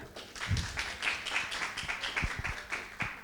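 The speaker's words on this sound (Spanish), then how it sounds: "Le vamos a dar un fuerte aplauso al doctor" Scattered audience clapping welcoming a doctor at a medical talk, a few sparse, fairly faint claps with a thin crowd murmur in a room.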